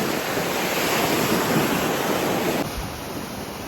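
Sea surf on a quiet, nearly empty beach at Zatoka, a loud steady wash of breaking waves mixed with wind buffeting the microphone, with no voices.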